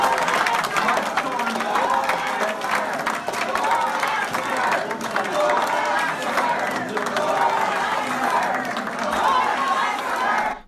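Crowd at a senator's town hall in Iowa, a dense roar of clapping and cheering from many people, loud and close, with voices chattering and calling out throughout.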